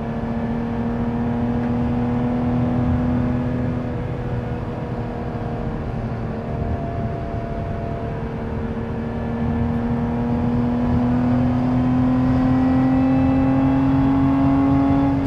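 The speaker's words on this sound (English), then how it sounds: "Supercharger whine." Steady whine from a Lotus Emira's supercharger while driving, a sustained tone rising slowly in pitch over a constant engine and road drone, close and continuous with no talking.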